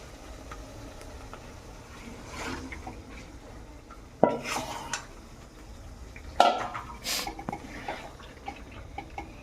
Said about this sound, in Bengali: এই সময় আমি চিকেনটাকে দিয়ে দিব। তো আমি চিকেনটাকে আস্তে করে দিয়ে দিই।